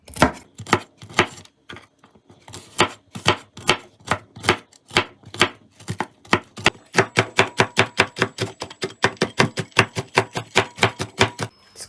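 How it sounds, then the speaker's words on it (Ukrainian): A knife chops walnuts rapidly on a cutting board, steady sharp taps speeding up into a quick even rhythm, close and alone. "Я хочу, щоб частинки горіха були добре відчутні, тому я їх подрібню ножем."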